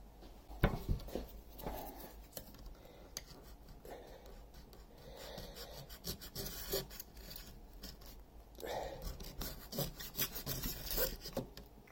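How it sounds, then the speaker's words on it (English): A razor scraper rasps across a 3D printer's PEI sheet, scraping off sticky gunk in repeated short strokes, close and fairly loud, with no talking. "I want to get the scraping razor and get all this gunk off of here."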